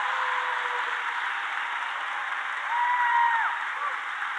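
A rally crowd in a high school venue applauds steadily, a dense wash of clapping with a few whistles rising near the end, all at a constant distance.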